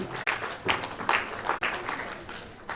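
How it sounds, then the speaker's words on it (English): A crowd applauds warmly, a steady wash of many hands clapping together, with some voices mixed in. "A round of applause for them."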